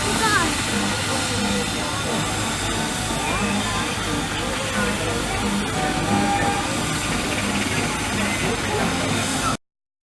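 Model Foden C-type steam wagon running at a steam show, a continuous hissing chuff with mechanical clatter and rumble, steady and close, amid a busy outdoor crowd, with voices faintly in the background.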